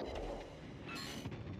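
Naval gunfire from a warship in World of Warships Legends, a steady wash of booming shots rolling together at moderate loudness with no pauses across the short stretch.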